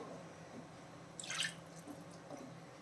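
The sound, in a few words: water added to capsicum paneer gravy in pan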